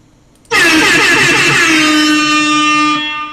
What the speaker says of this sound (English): Can you hear the air horn?